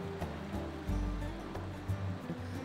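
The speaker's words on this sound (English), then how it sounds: "You can hear the water rustling." Water flows beneath a New England covered bridge, a faint, steady rushing and rustling with soft low surges throughout, heard alone with no voices.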